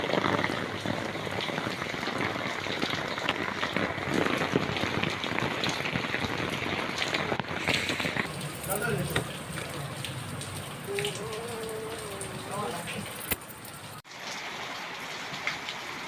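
Steady rain falling outdoors behind a shop, a continuous dense patter with some splashing, fairly close and unbroken for the whole stretch, with faint background sounds but no clear talk.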